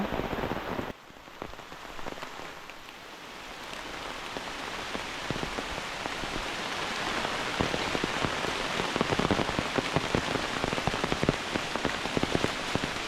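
Heavy rain pours down on a hard surface on a Konkan farm, a constant loud patter of drops that builds slightly and never lets up.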